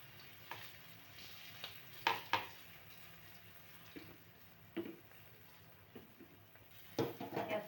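Surmai fish pieces frying in a pan, a low steady sizzle with a few sharper crackles and utensil clicks, fairly quiet and with no voice.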